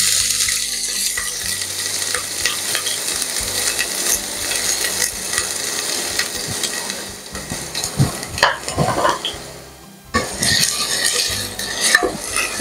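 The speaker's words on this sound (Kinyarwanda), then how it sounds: "Amavuta namara gushya turashyiramo igitunguru." Onion fries in hot oil with a steady crackling sizzle, joined by repeated spoon scrapes and clatters against the pan that grow busier toward the end; no one speaks.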